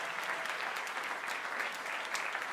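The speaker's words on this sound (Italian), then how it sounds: "Laura, che oggi non c'è, Beatrice e Anna, un applauso anche per loro" Audience applause at a Muse/1984 event in Italy, thanking the costume team: steady, dense clapping from a crowd, continuous and even throughout without talk.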